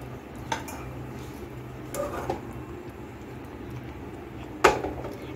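A spoon stirs rasmalai balls in a pot of simmering milk on a stove, giving a few faint, scattered clinks against the metal over a quiet bubbling background.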